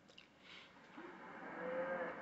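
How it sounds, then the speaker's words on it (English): Scottish Highland cattle lowing on a farm, a few drawn-out moos rising toward the end, moderately distant, with bird chirps and outdoor ambience and no talk. "I want you to hear some of the Scottish Highland cows."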